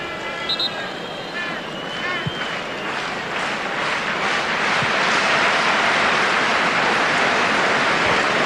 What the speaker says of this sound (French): Les applaudissements du côté des supporters